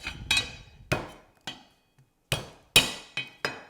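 A knife chops garlic on a cutting board for a Vietnamese coconut pork dish, giving about eight sharp, close knocks in an uneven rhythm, each one ringing briefly, with short pauses between.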